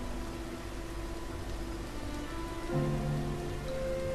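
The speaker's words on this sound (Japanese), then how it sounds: "建物の隙間から雨が街を濡らす。" Rain falling on a night city street in the video game Rain, a steady soft hiss of drops on surfaces with a faint low hum underneath, no talk.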